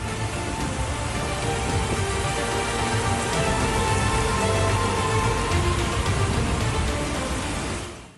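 Heavy rain pours down in Dubai during record-breaking extreme rainfall, a dense, loud, unbroken roar of falling water that fades out abruptly at the end, with no voices.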